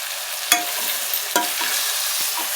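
Masala for veg biryani sizzles steadily in a pan, a continuous close frying hiss broken by a few sharp scrapes and clinks of a spoon stirring.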